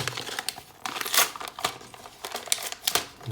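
A paper LEGO minifigure packet crinkles and rustles in quick, irregular bursts close up, with no talking.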